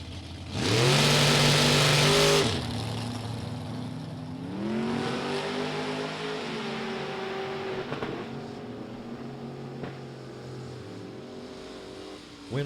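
A 1934 Chevy Roadster and a 1927 Ford Roadster drag racing: a loud, close engine roar rises in pitch, then a long sustained drone as the cars run and pull away, with a race announcer talking over it.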